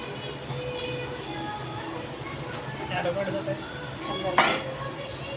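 Bitter gourd (karela) bhaji is stirred in a frying pan with masala and oil, giving light utensil scrapes and clinks against the pan and one sharper metallic clatter near the end, all quite faint.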